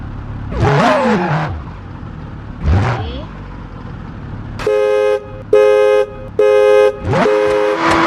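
A car alarm in the BeamNG driving game sounds three loud, evenly spaced horn blasts, each about half a second long, after a couple of softer engine-like whooshes, then a final honk fades into a rising sweep.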